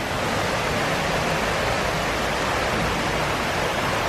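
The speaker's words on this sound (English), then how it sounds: "this is just above the falls." Water rushes steadily just above a waterfall on a river near Elterwater, a dense, even roar that stays loud and close throughout with no voices.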